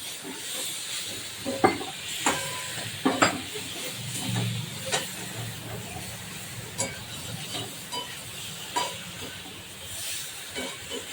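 Market vegetables sizzle and hiss in a pan for a potato-free fish curry, with steady frying noise and repeated scraping stirs and clinks of a spatula throughout.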